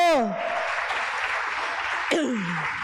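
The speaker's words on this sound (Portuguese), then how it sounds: "Você pode aplaudir o Senhor?" A congregation applauds the Lord during a Tuesday church worship service: dense, steady clapping fills the room, with a preacher's voice heard at the start and again near the end.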